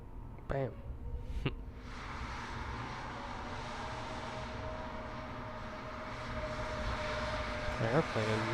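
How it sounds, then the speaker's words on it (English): A Bahamasair airplane coming in to land, its engine roar rising into a broad, steady rumble heard from a distance, with a voice calling out and a couple of brief whistling tones over it. "Just go see this airplane land."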